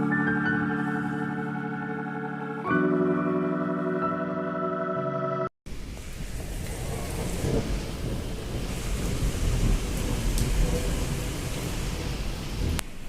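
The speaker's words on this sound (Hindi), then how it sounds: "बाहर हो रही है तेज़ तेज़ बारिश की आवाज़ आपको आ रही होगी" Heavy afternoon rain with rumbling thunder, a loud continuous roar of rainfall and low booming, heard alone with no voices, after a brief burst of musical tones at the start.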